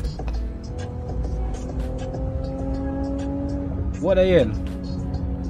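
A street racing car's V6 engine drones steadily, then revs up sharply and sweeps past close by, with voices talking over it throughout.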